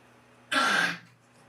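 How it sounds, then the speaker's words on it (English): A dog gives a single short, harsh cough, close by, lasting about half a second in an otherwise quiet room. "That's my dog coughing."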